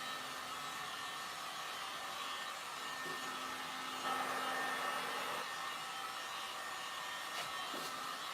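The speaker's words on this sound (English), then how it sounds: "I'm actually gonna hit it a little bit with a heat gun just to kind of help it along a little bit" Heat gun blowing on fresh spray paint, a steady airy whir with a faint motor tone, holding constant throughout at a moderate level.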